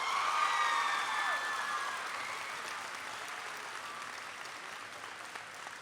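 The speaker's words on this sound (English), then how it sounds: "please give your families a round of applause for all of their dedication to your education" Crowd applause at a junior high school graduation ceremony, a dense wash of clapping that starts strong and gradually thins and softens while continuing throughout, with faint whistles near the start.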